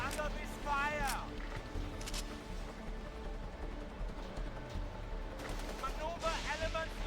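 Gunfire crackles in Battlefield 2: Modern Combat, sharp shots bursting out in scattered clusters over a steady battlefield rumble while voices talk throughout.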